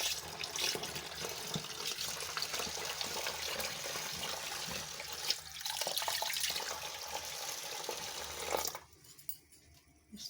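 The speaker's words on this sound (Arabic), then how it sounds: "هنا انا غسلت المواعين" Tap water runs steadily into a home kitchen sink while dishes are washed, with soft splashing and clatter. The flow cuts off near the end, leaving near silence.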